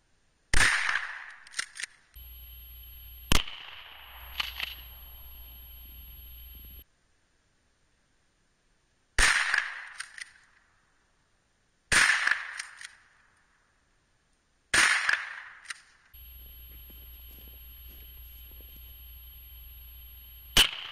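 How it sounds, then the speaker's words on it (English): 20 gauge shotgun fired at a gun lock: five loud, sharp blasts, each decaying quickly, spaced several seconds apart and separated by stretches of steady hiss and near silence, with no talking. "So I'm going to fire a few more shots at it and see what it does."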